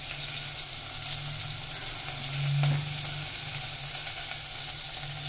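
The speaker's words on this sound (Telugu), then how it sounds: "ఆయిల్ వేసుకున్న తర్వాత ఆయిల్ కొంచెం మరిగా మరిగాక ఆనియన్స్ ఉల్లిపాయలు వేసుకో" Three large onions hitting heated oil in a home kitchen pan give a steady, close sizzle that hisses evenly throughout, with a brief stir partway through.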